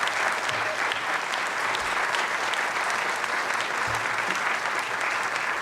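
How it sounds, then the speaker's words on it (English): Audience applause at an education event at a college, a steady, dense wash of clapping hands that holds for several seconds without pause. "Can we please give them a round of applause?"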